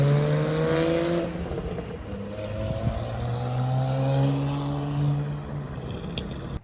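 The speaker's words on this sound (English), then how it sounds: "he is just testing his 335i" A BMW 335i E92 drift car under test, its engine droning and shifting in pitch as it revs up and down at a moderate distance, no voices.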